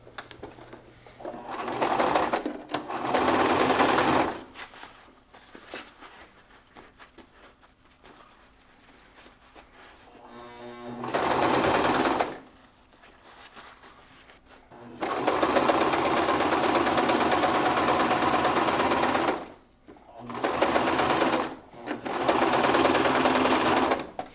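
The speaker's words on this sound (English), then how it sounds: "I'm going to start at this corner and sew my way up" Sewing machine stitching a front stretch pocket on four-way stretch fabric, bursts of fast buzzing stitches lasting a few seconds each, separated by quiet pauses and one slow short run of single stitches.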